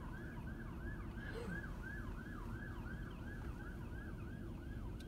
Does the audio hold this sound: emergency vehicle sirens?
yes